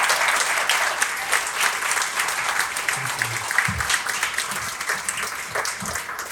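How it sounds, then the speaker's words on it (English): Audience applause for performers, including a choir, at a public event, a dense steady wash of clapping from a sizable crowd throughout, with a few low voices murmuring underneath. "let's give another huge round of applause for all of our performers"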